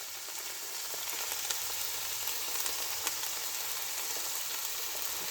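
Tomato puree sizzles steadily in a hot pan for a vegetable lasagne sauce, a continuous close frying hiss with faint crackles and occasional stirring scrapes, no voices.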